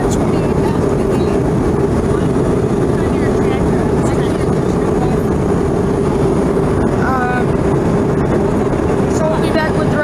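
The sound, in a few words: Embraer E145 jet cabin noise in cruise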